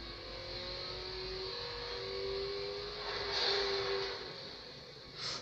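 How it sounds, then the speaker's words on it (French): A car engine in the video game Need for Speed: Most Wanted drones steadily with a sustained whine, its pitch rising and falling slightly as it revs, heard alone without talking. "Donc voilà, comme ça, vous entendez le moteur"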